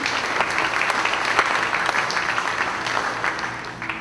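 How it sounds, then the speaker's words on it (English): An entertainment show crowd applauds EMC in a steady, dense wash of clapping that holds loud and even throughout, easing slightly at the end. "Let's give EMC another round of applause,"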